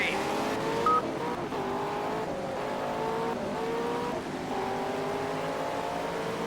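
A McLaren race car in the rain in the Project CARS racing game, its engine a steady, close harmonic whine rising and falling through gear changes, with someone talking over it.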